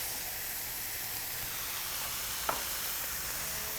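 Creekstone Farms brisket-blend ground beef and onions sear on a flat-top griddle with a constant hissing sizzle. One sharp pop or scrape near the end stands out, with no voices.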